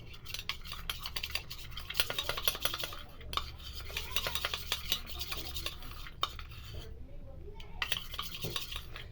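A face pack paste of curd, jaggery, besan, coconut oil and lemon being stirred in a bowl, with repeated scraping and clinking strokes close by, brief pauses between bursts and no talking.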